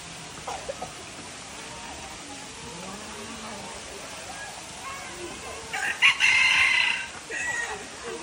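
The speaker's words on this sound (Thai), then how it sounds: "ขันอีกสิถ้าวินกินบอลคอนเยอะๆวินจะขันแบบเมื่อกี้เลย" A rooster crows inside a large walk-in bird enclosure at an open zoo, the call rising fairly close toward the end over a steady outdoor hiss, with faint voices and other birds in the background.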